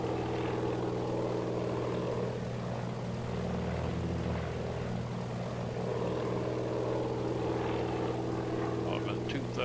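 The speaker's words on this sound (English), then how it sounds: "These planes are a little bit sluggish, toting them floats around." A floatplane propeller aircraft drones steadily in flight, a sluggish plane carrying floats, its engine hum constant and close from inside the cabin while a voice talks quietly over it.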